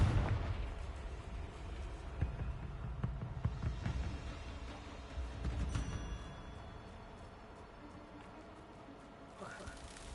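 Confringo fire spell blasts in Hogwarts Legacy, several booming explosive bursts with rumbling impacts over game background sound, loudest in the first six seconds and then fading to a quieter ambient bed.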